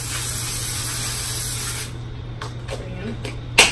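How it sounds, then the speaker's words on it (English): Non-stick cooking spray hisses onto a baking sheet in a loud steady burst lasting nearly two seconds, then a few short quieter sprays follow, ending in a sharp clatter. "Spray baking sheet with non-stick cooking spray."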